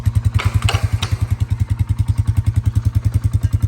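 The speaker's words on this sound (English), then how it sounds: "Now that I have the four-wheeler out" A four-wheeler engine runs close by with a steady, fast low thumping pulse, plus a few brief clatters in the first second.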